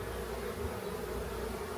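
Honeybees buzz around their hives during an apiary inspection, giving a dense, continuous drone that stays steady and fairly close throughout, with no talking.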